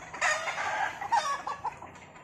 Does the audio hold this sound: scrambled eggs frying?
no